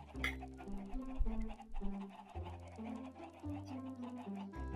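Chickens cluck inside the Minecraft Pixelmon video game, several short repeated clucks and bawks overlapping a droning musical soundtrack at low volume.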